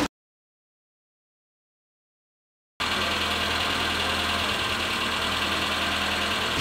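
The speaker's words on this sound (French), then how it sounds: "Je peux savoir pourquoi vous laissez tourner le moteur au ralenti?" A car engine left idling on a French street runs as a steady, loud, continuous rumble. It comes in abruptly after nearly three seconds of silence and holds unchanged to the end.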